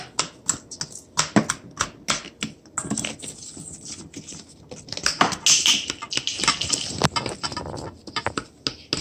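Clumped salt crunching and crackling as it is pressed and mixed into homemade slime, a close, dense run of small crisp clicks and crackles with no talking.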